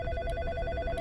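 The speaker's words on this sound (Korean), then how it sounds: "전화 왔어 전화 왔어" Telephone ringing in the horror video game In Sound Mind, a steady repeating electronic ring that stays fairly loud and fills the short moment with no talk over it.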